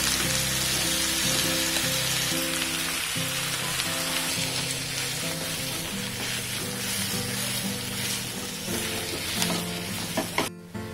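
A boiled, cooled potato mixture for vada pav is roasted and stirred in a pan, a continuous crackling sizzle with repeated scraping and tossing strokes, close and steady before a brief clatter at the end.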